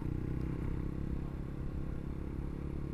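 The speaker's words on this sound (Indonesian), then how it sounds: "gue juga ini menggunakan knalpot racing ya tapi uh, jenis knalpot yang adem gitu" Motorcycle fitted with a quiet-type racing exhaust, a steady low rumbling engine drone while riding, with some wind and road clatter and no talking.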